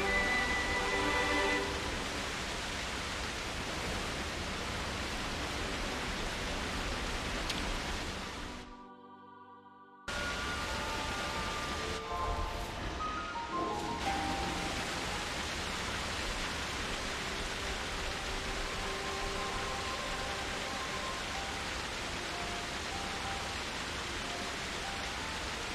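Rain in the video game Xenoblade Chronicles 3: a steady, even hiss of rainfall fills the scene, dropping out briefly near the middle before resuming at the same level and continuing unbroken to the end.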